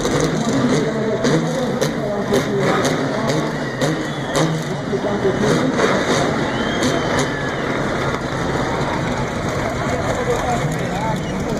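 Old Chevrolet Opala engine revving loud at a night car gathering, a continuous heavy roar that stays steady throughout, with people talking nearby under the noise.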